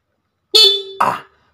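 Two short, loud car horn honks close by, the first a clear steady tone, the second a quick rougher blast, with silence around them.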